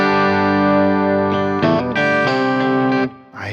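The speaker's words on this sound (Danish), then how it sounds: "Og en 12-strenget elektrisk lyder sådan her." Twelve-string electric guitar playing a short run of sustained, bright chords with a jangly, doubled shimmer, loud and close, fading out as a brief voice enters at the end.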